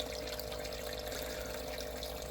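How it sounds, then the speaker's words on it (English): Steady rushing water from a powerful aquarium canister filter jet in a tank housing parrotfish, a continuous close, even splashing flow with no talk. "The water jet might be a little bit strong."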